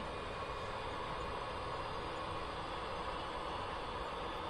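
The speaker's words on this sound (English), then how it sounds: "This SD70N is also from Athearn." An Athearn ready-to-run SD70 HO scale model diesel locomotive running on a model railroad layout, a steady continuous motor whir and rolling hum, close and even, with no talking.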